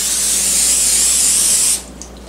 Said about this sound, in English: so let's spray this